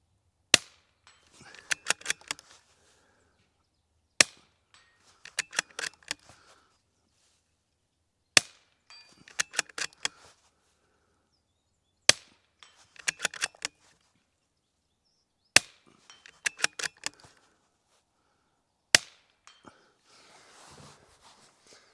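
A suppressed Ruger Precision Rimfire .22LR rifle fires six sharp, muffled cracks spaced a few seconds apart, each followed by a brief clatter of faint ringing and handling noise, on an otherwise quiet outdoor range.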